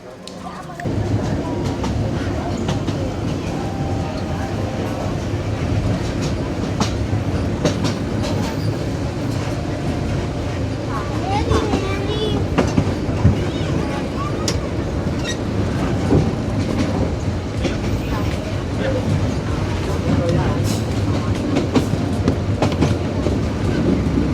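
Steady rumble and rhythmic clatter from inside a train running toward Mawlamyine, Myanmar. The noise stays loud and even for the whole ride, with faint wheel and carriage rattles but no clear talk.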